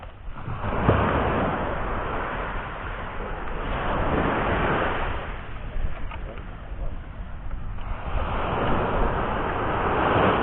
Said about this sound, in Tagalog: Malakas yung alon, eh.